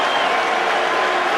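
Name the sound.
cricket crowd applauding at Nottingham test match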